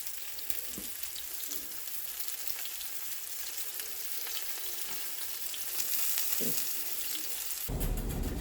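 Curry frying in oil in a pan gives a continuous close sizzle with occasional stirring scrapes, growing louder near the end.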